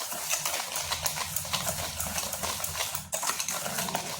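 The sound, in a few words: mixing sugar into palm fruit pulp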